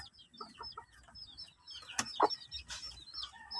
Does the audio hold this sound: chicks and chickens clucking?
yes